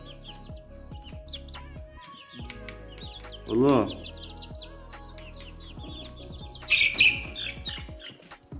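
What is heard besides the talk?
rooster clucking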